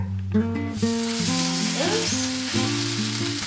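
A quesadilla fries in an oiled pan, giving a steady, fairly loud sizzle that starts abruptly and continues under tuneful background music.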